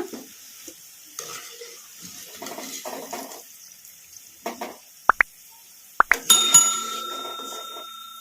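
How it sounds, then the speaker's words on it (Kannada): Oil sizzling and crackling steadily as cauliflower pakoras fry, with stirring scrapes and a couple of sharp metallic clinks against the pan. "ಈ ಥರ ಕಲಿಸ್ಕೊಂತ ಫ್ರೈ ಮಾಡ್ಕೋಬೇಕು"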